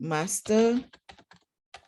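A few quick, light keystrokes tap on a computer keyboard while a search is typed, following a brief spoken word. The clicks are close and sparse.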